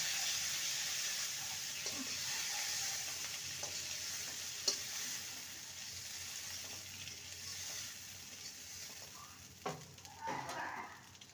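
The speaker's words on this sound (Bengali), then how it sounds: "চিংড়ি মাছগুলো ভাজা হয়ে গেছে" Prawns sizzle in hot oil with a constant crackling hiss, broken by a few clinks and scrapes of stirring.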